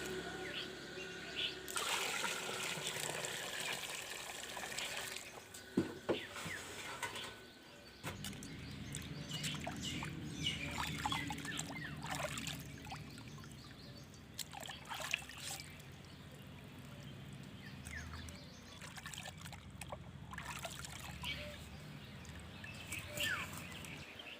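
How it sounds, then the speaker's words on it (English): A whole fish rinsed under running water while being cleaned for Kashmiri fish: a continuous trickling, splashing stream, with faint birdsong in the background and brief handling noises. "Now give the fish another good rinse to remove any remaining debris."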